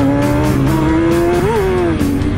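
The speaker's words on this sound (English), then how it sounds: "it's spinning the tires" Kawasaki ZX-6R 636 motorcycle engine droning steadily with a rising squealing whine as the rear tire spins, loud and close throughout.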